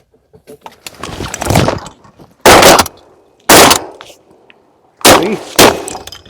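Shotguns fired while duck hunting in Florida: three loud, sharp blasts spaced about a second apart, close by, with faint outdoor background and scattered small noises between.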